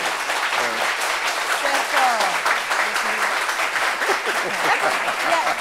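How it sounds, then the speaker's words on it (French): Audience applause for a pair of twins on a French talk show, continuous even clapping with cheers and voices threaded through it. "Est-ce qu'on peut applaudir ces jumelles?"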